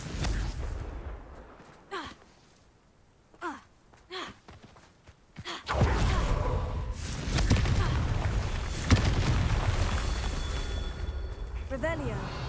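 Confringo fire spell blasting in a Harry Potter video game, a burst of sound that swells into a loud, sustained rumbling roar after a few quiet breathy sounds.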